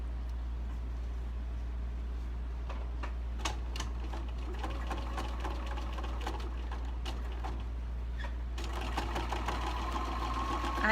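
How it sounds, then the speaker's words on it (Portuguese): A sewing machine runs steadily, stitching a fabric strip onto a towel, its close, continuous motor hum and rapid needle ticking lasting throughout with a few louder clicks near the end. "Agora eu vou virar minha toalha e vou costurar essa tira também no outro sentido."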